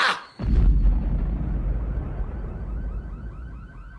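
Movie explosion from the film Last Action Hero: a sudden deep blast after a brief sharp onset, then a long loud rumble with debris noise slowly fading, and faint siren-like tones toward the end.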